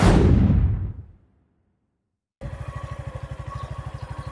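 A Suzuki Gixxer FI sports naked motorcycle engine idles with a steady, rapid low pulsing, cutting in after a fading sound and a pause of silence.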